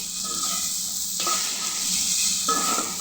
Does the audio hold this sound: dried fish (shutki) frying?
yes